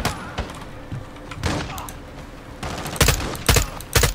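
Gunfire in Call of Duty: Modern Warfare 2 during a mountain firefight: loud, repeated sharp shots and bursts over a busy game soundscape, with several strong reports toward the end.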